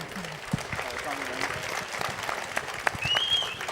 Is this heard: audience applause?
yes